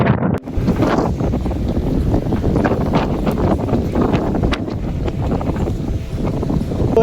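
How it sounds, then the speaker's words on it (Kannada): Strong cold wind roars steadily and loudly across the microphone on a hilltop at Himavad Gopalaswamy Temple, a constant rushing buffet with no pauses. "ಸಖತ್ ಏರು ಗಾಳಿ, ಸಖತ್ ತಂಪ ಗಾಳಿ ಬೀಸ್ತೈತೆ"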